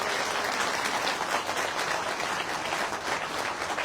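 An audience at a party workers' meeting in Kurukshetra, Haryana, claps warmly to welcome a guest, a dense and steady burst of applause that holds level for the whole few seconds.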